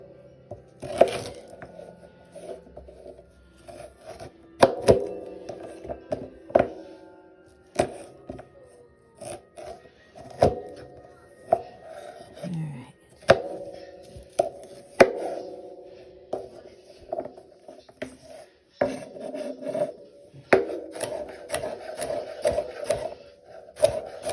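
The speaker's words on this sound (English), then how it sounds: "I'm going to cut everything relatively small." A knife chops vegetables into small pieces for short ribs, striking the cutting board in a steady, close series of crisp thuds with brief pauses between bursts.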